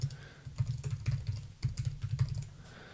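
Fingers tap a computer keyboard close up in irregular, quick bursts of clicking keystrokes with short pauses between, quiet and without any speech.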